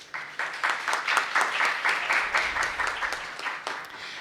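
Audience applause greets a panel moderator at an education and innovation lecture series, a steady patter of many hands clapping at moderate volume with rhythmic swells, alone without talk.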